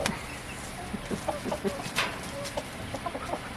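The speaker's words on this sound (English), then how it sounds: "I can't believe the two sister hens are fighting each other." Two hens fighting cluck in short, scattered bursts over a noisy farmyard background, with a sharper squawk partway through.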